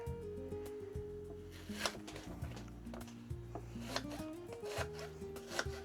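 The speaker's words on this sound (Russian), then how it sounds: "мы нарезаем лук" A knife chops an onion rapidly on a cutting board, quick irregular taps close up, with faint rubbing and scraping in between.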